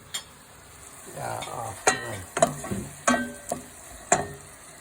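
Peeled shrimp hitting a hot pan and sautéing for a Chinese stir-fry with soy sauce, honey, scallions, garlic and onions, heard as close sizzling broken by several sharp stirring clatters at an uneven pace, with no talk.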